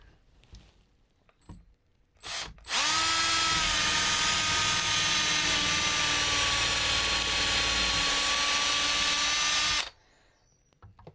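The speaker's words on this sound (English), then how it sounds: "I'm just kind of letting the drill follow the hole that's there" A power drill fitted with an impact driver bit and an extension bores through a camper roof, giving a loud, steady, high whine for about seven seconds. A few short knocks and handling noises come before and after.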